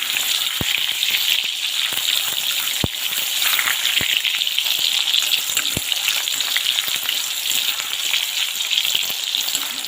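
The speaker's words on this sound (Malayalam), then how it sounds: "എണ്ണ മൂത്തിട്ടുണ്ട് അതിലോട്ട് നമുക്ക് കുറച്ചിട്ട് കൊടുക്കാം" Bilimbi pieces for pickle fry in hot oil, a dense, loud, continuous sizzle and crackle heard up close, broken by a few sharp clicks or taps of a utensil against the pan.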